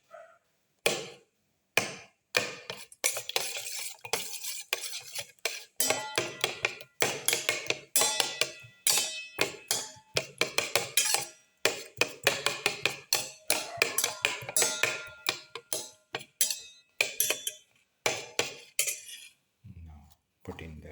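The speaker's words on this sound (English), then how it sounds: "Crush the tomato pieces by mixing." Tomato pieces being stirred and crushed in a pan with a utensil while cooking egg fried rice: a steady run of sharp, close scraping and tapping clacks, rhythmic and fairly loud, with no talking.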